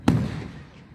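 A single firework bursts with a sharp, loud boom at an outdoor night show at Montage Mountain, followed by a rumbling decay that fades over about a second.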